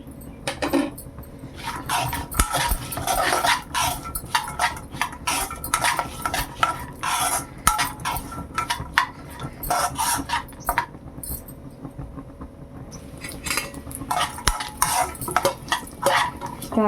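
Raisins fry in a hot pan alongside cashews for beetroot halwa while a metal spoon stirs them. Rapid, repeated scraping and clattering of metal on the pan runs loud and near throughout, with no talk.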